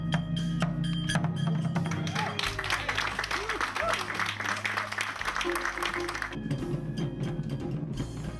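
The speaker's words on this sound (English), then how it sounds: "The American participants also tried their hand at Japanese drumming and received a well-earned round of applause." After trying Japanese drumming at a grassroots summit in Miyagi, American participants receive applause, a sustained clapping wash under voices and background sounds.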